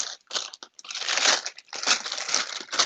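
Parchment paper crumpled by hand to line a rectangular baking pan for Biscoff brownies: loud, close crinkling in irregular bursts with short pauses, no talking.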